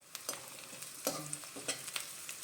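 Small chopped garlic pieces fry in oil for gobi rice, a soft close sizzle with repeated stirring scrapes and light clicks of a utensil against the pan.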